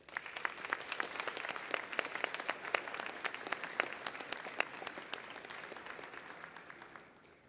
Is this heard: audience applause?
yes